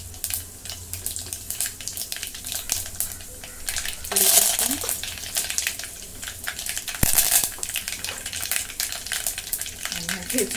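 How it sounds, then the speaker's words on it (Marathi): Mustard seeds and cumin sizzle in hot oil in a pot, giving a steady crackling fry with two sharper bursts of spattering as more goes in. "तेल ओतलंय पातेल्यात, मोहरी टाकून घेते."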